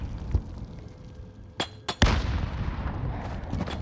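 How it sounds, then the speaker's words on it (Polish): Grenades burst in a Call of Duty Warzone arena match, two sharp blasts close together followed by a heavier, ringing explosion that lingers, with no talk. "Tutaj takie, myślę, granaty na rozproszenie."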